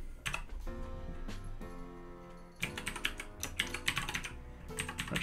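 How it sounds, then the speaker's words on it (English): Rapid typing on a computer keyboard during a web development coding session, with dense clusters of close key clicks in irregular bursts and a brief lull in the middle. "I am massively typing stuff incorrectly tonight."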